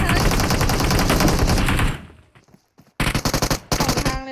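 Automatic gunfire in the mobile shooter PUBG Mobile rattles in a loud, close sustained burst, breaks off into near silence, then returns in several shorter rapid volleys.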